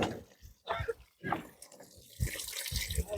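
Cold spring water at Kudajadri runs in a steady trickling flow, near and moderately loud, with short gaps and a brighter splashing burst toward the end; no one speaks.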